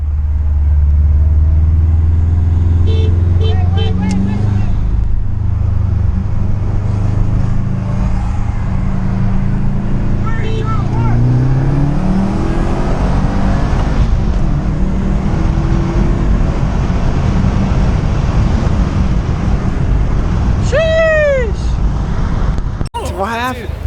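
A Stage 1 Subaru WRX races a Stage 2 Subaru STI on Route 9, their engines roaring close and loud throughout, the revs climbing through the middle, with voices partly buried beneath the noise.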